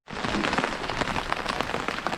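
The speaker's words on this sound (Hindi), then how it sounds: "तो देखते भयंकर वाली बारिश है।" Heavy rain pours down steadily in a mountain village, a dense, loud hiss of drops striking surfaces all around with no break.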